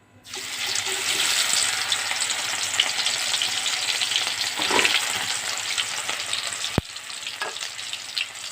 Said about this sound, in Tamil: இனி போட்டு பொரிப்போம் காலிஃப்ளவர் எடுத்து பொரிப்போம்